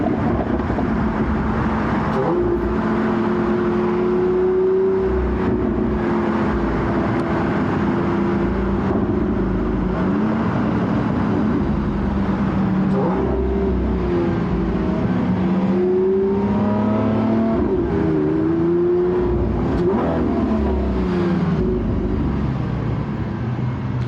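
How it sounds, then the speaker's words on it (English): A Lamborghini Aventador SVJ engine revs hard and climbs through gear changes, with exhaust pops on the upshifts from first to second and second to third, loud and close throughout. "this pops on upshifts from first to second and second to third"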